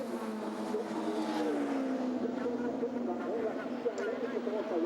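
Touring cars racing at Imola in the 2008 World Touring Car Championship, including a Chevrolet and a Honda Accord, whose engines give a fairly faint, steady drone with shifting pitch beneath continuous race commentary.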